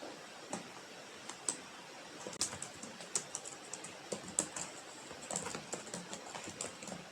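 Computer keyboard typing text into CAD software for an engineering drawing, with a steady run of light, close clicks and taps, irregular in rhythm, some keystrokes sharper than others, with no voices.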